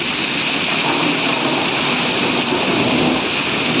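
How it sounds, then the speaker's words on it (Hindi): Heavy rain mixed with falling hail in early March, a loud continuous broadband roar and hiss of downpour with no voices, steady throughout. "तो भाइयों कितनी तेज बारिश हो रही।"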